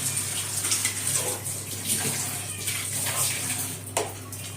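A jug of water pours into a pot of chicken biryani at home, a continuous splashing gush running steadily throughout, close and fairly loud with no talk.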